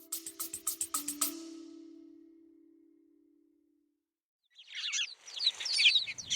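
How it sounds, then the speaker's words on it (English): House sparrows chirp from a bare tree at the edge of a farm field in winter: a quick burst of close chirps at the start, then a busier, fainter twittering chorus near the end. "Chris, the sound of some of your favourite birds."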